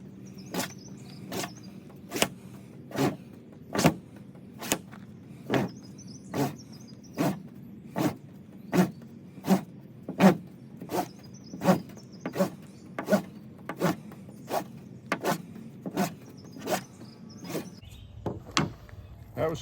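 Washcloth fire roll being rolled hard and fast by hand, producing a steady series of about two dozen evenly spaced rubbing thumps and scrapes, each a distinct firm stroke in a quiet setting.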